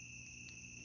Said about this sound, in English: They're crickets.